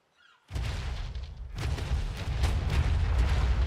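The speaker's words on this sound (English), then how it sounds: "You heard that explosion, right?" Deep rumbling blast in ARK Survival Evolved (Primal Fear mod) erupts after a brief quiet moment, a sustained booming roar that swells again midway and stays loud to the end, with no talking.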